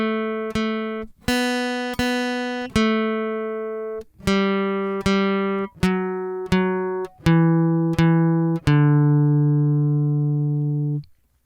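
An acoustic guitar picks out Twinkle, Twinkle, Little Star one clear note at a time, each note ringing and decaying, in an even, unhurried rhythm up close with no voice.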